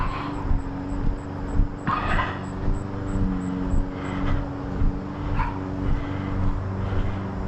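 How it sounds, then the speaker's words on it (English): A small dog barks repeatedly from a porch, loud and near, with a series of sharp yips and barks spaced irregularly over a steady background of outdoor noise. "Get a little Poochie out on the porch there, getting a little barky."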